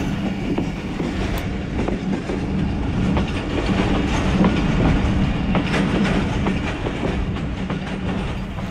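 The 130DN Thal Express passenger train, running between Rawalpindi and Multan, rumbles steadily along the rails with a dense, continuous roar and faint clickety-clack, heard close from on board throughout.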